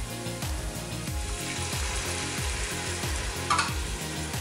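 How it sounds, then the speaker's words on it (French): Pork trotters in soy sauce are stirred in an Instant Pot, making a quiet, steady frying sizzle with soft scraping, and a brief brighter clatter near the end. "Je mélange toujours."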